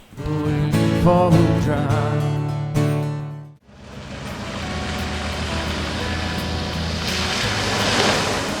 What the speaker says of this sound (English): these vehicles find the puddle, well, not so much shallow, but more of a deep puddle than anything else, and the girls take it nice and easy going through